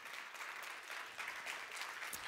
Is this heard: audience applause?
yes